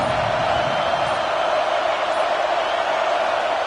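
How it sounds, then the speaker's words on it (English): A stadium crowd at a football game roars in a dense, steady wash of noise, loud and unbroken throughout, with no distinct voices standing out. "This crowd bringing an ear-splitting welcome to their visitors."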